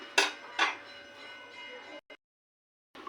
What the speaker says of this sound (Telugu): మూత పెట్టేసుకోవాలి.